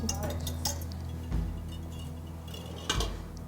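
A spoon clinks and scrapes against a pot or dish while cornstarch-thickened broth for cheesy chicken and broccoli is stirred in an Instant Pot, a few sharp clinks over a steady low hum, close by.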